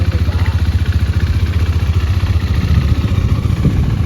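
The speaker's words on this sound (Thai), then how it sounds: "เครื่องยนต์หนึ่งสูบสี่วาล์วนะฮะ" A KTM 390 Duke's single-cylinder, four-valve, water-cooled engine idles steadily with a low, even chugging pulse, close by and continuous throughout.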